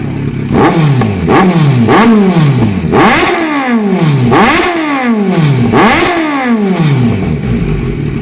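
Loud, close revving from a Kawasaki Z900 wearing an SC Project exhaust: about six quick throttle blips, each climbing and dropping back, in a steady rhythm with no talking over them.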